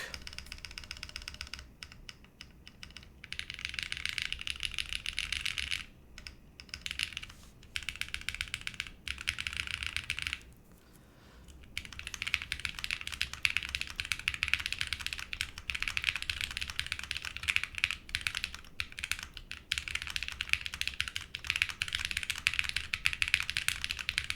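Rapid typing on a TGR Dolice mechanical keyboard, dense clacky keystrokes close up, continuing in bursts with a few short pauses.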